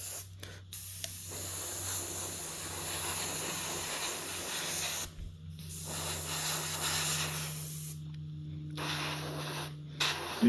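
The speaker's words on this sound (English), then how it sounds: "I have trouble with this airbrush. It doesn't have much control anymore." A worn-out airbrush sprays in close, steady hissing bursts of several seconds each, separated by brief silences, with a low mechanical hum running underneath.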